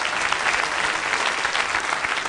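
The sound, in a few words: audience applause at a football debate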